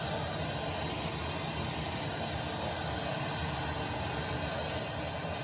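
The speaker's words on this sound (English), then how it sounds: "I test the loudspeakers just using the FM, but with no aerial plugged in. So what you're getting is just static" Dense FM radio static hisses steadily through a pair of vintage Tandberg TL5010 loudspeakers with no aerial connected, a constant broadband rush of noise with no voices.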